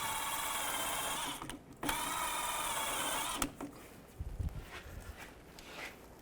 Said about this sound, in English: I'm just gonna clean this up with a wire brush.